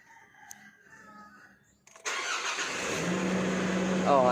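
Nissan Navara engine with a low-power and hard-starting fault cranking and firing, then settling into a steady idle; quiet room sound before the start, with a rooster crowing faintly in the background.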